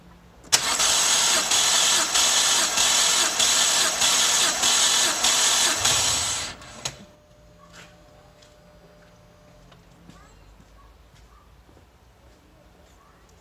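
A car engine turning over on the starter during a compression test, cold with no oil, a loud close rhythmic cranking that runs for about six seconds and then stops, followed by quiet handling clicks.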